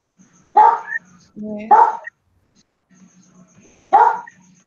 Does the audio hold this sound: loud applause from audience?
no